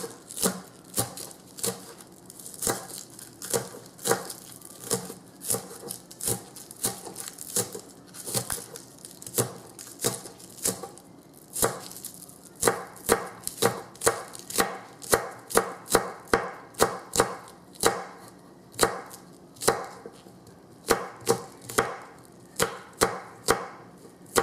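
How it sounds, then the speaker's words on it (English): A knife chops green onion into fine pieces on a cutting board, with dozens of rapid, crisp, evenly spaced blade strikes that keep a steady rhythm throughout, close and clear with no talking. "I want to cut up the green onion here, and I want to cut it up into nice fine pieces"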